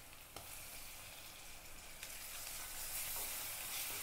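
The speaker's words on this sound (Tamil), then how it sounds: "நம்ம இப்போ இஞ்சி பூண்டு பேஸ்ட்டு சேர்த்துடலாங்க." Ginger garlic paste sautéing with softened onions in a pan for a jackfruit gravy, a faint, even sizzle with a few sharp scraping taps of a spoon, steady throughout.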